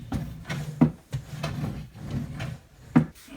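Two IKEA KALLAX drawers being lifted and slid onto their wheeled rails, giving repeated close wooden knocks and rolling scrapes in short bursts, with a sharper clunk as each drawer seats.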